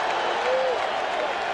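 A baseball crowd at a 1986 World Series game between the Red Sox and the Mets cheers and applauds in a continuous roar, with a faint voice briefly rising above the din.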